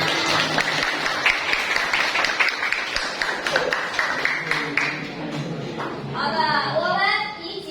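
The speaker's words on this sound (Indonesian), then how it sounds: "Tepuk tangan." A classroom of young pupils claps together at the teacher's prompt, dense lively applause with a voice speaking over it and a voice rising near the end.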